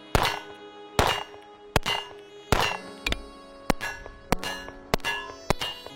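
A stock Glock 48 pistol fires Federal 124-grain ball ammunition in about nine sharp, loud shots. The shots come in an uneven rapid series, each with a ringing, metallic tail.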